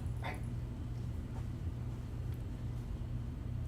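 A dog gives a short whimpering yip near the start, then faint whines over a steady low engine-like rumble indoors, with no talk.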